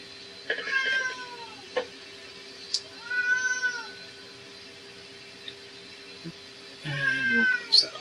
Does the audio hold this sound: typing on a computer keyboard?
no